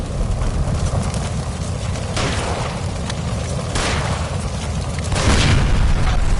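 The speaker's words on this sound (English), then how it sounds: "Shoot the gas line, Cole, we're out of here!" A gas line blows up in the video game L.A. Noire, loud booming blasts with roaring fiery rushes rising in waves over a dense, rumbling background.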